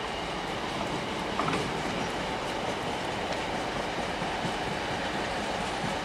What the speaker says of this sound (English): The scene on a coal train passing Newark.